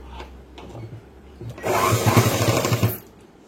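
A sewing machine runs in a loud burst of stitching across a boys' school uniform pant, starting after quiet handling noises and stopping about a second and a half later.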